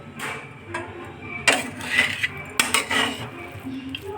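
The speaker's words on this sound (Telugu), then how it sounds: "ఇప్పుడు కొంచెం కలుపుకుందాం." A metal spoon stirs lemon rice in a pot, with scraping and sharp clinks against the pan's sides in a few irregular strokes, close and moderately loud.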